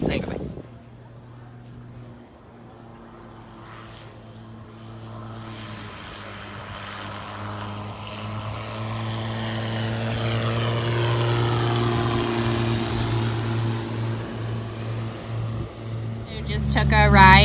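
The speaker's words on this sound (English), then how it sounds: "Just took a ride in Viking Super Duty with the 180 turbo engine" A Viking CH-750 Super Duty light aircraft with a 180 turbo engine hums with a steady propeller drone that gradually swells louder, while people talk over it inside the cabin.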